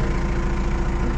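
A Mazda Bongo campervan's engine idles steadily up close, a continuous low mechanical hum with a faint knocking pulse and no voices.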